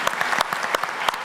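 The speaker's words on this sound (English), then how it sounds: "So please give me a round of applause." An expo audience claps steadily, a brief round of applause with distinct individual claps standing out.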